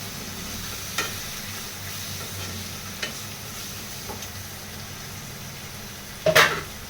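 Chopped tomatoes frying in a pan, a soft steady sizzle with a few faint scrapes from stirring and a sharper clatter near the end, heard alone without talk.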